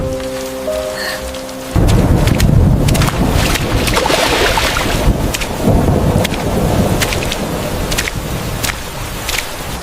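Heavy rain pours down loudly and steadily after a short musical opening, with a dense drumming wash and low rumbles like distant thunder.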